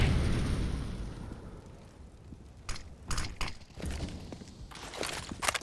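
Flashbang grenades burst in a Counter-Strike match on Mirage: a series of sharp, loud pops and crackles, several in quick succession and then one more, over a dull background of game ambience.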